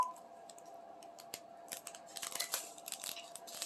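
Scissors snip through the plastic bags of a diamond painting kit, giving a quiet run of short crisp cuts and crinkles close by, growing busier toward the end.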